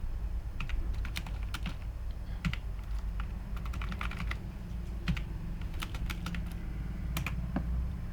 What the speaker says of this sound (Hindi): अब मैं कुछ रैंडम डेटा ही टाइप कर रहा हूँ